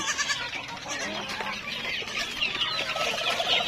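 Chickens and bantams cluck and chatter continuously at feeding time on a farm, a dense close flock noise with overlapping calls and no talk.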